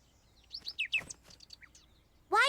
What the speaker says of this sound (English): Hi, Birdie. Shoo! Go away